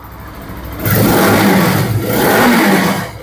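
A Bajaj Pulsar RS200 motorcycle engine, ABS model, is revved nearby in two sustained roaring bursts after a quieter idle, loud and close with no talking.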